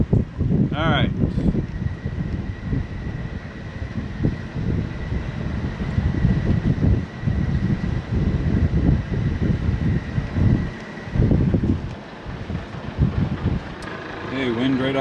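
Wind buffets a sailboat heading upwind during a test sail, a loud gusty rush across the microphone under an engine-like drone, with people talking over it throughout.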